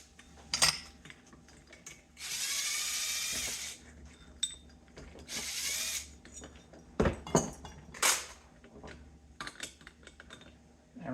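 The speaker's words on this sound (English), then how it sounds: "So then I'm just going to remove the tool and these bolts that we used." Metal tools and bolts are removed from a BMW R69S motorcycle engine on a quiet workbench. The sharp clinks and clatters are mixed with several longer ratcheting or whirring bursts, and no one speaks.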